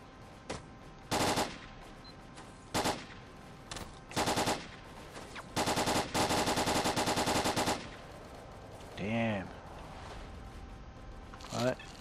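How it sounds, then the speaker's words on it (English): Enemy gunfire in the S.T.A.L.K.E.R. shooter, with several short automatic bursts of varying length, a whooshing effect and a player talking at times over the shots. "They're shooting at me now."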